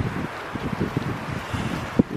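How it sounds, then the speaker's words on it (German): Strong wind buffets the microphone in rough, gusting rumbles, with a brief knock near the end. "ganz schön windig heute."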